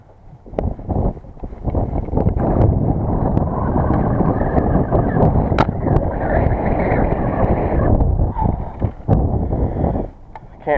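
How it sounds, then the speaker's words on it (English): Strong wind buffets a fishing boat out on the water, a loud continuous roar and rumble with gusty swells and occasional knocks, close and steady throughout. "Can't really fight this wind."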